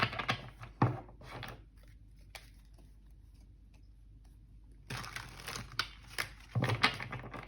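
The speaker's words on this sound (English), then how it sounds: "something's telling me to shuffle them back in and to shuffle from the beginning as well" Tarot cards being shuffled by hand, with two bursts of crisp riffling and flicking papery rustle separated by a few seconds of near silence, close and fairly quiet with no talking.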